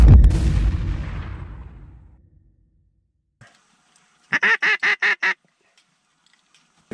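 A single loud shotgun blast booms and rumbles away over a couple of seconds during a duck hunt, then a quick burst of five nasal duck quacks sounds nearby.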